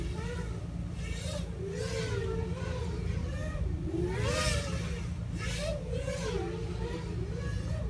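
Small FPV drone brushless motors, Hyperlite 1103.5 or Flywoo 1203 on 1S power, whine and rise and fall in pitch as the throttle changes, steady and fairly faint over a low hum.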